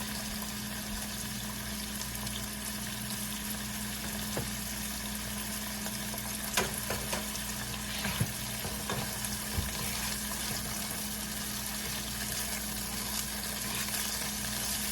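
Ingredients sauté in a pan for a Panamanian carimañola beef filling, giving a steady soft sizzle with occasional stirring clinks and scrapes throughout.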